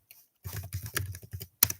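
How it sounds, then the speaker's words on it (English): A short, quick burst of close keystrokes on a computer keyboard, rapid clicks running together, then a pause and one final sharp tap. "I'll type it."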